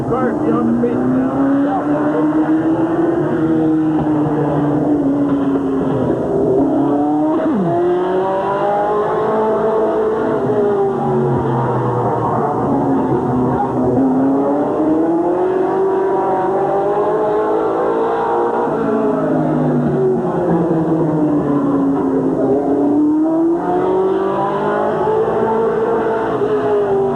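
Race cars roar around the oval at Midvale Speedway, engines rising and falling continuously as they circle the track, loud and sustained throughout with an announcer talking over the racing.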